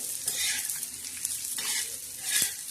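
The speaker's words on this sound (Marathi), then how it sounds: "आता हा असा भाजायचा, खरपूस आणि खमंग असा मस्त भाजायचा." Black masala roasting in a pan while being stirred, giving a steady dry sizzle with scraping strokes of the spoon. The stirring is close and fairly loud, with no voices.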